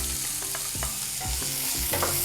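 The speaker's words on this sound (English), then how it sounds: "Now to this I'm also adding in the chopped onions." Chopped onions, green chilies and cumin seeds with asafoetida sizzle in hot oil as a spoon stirs, leaving a steady frying hiss broken by repeated scraping strokes at close range.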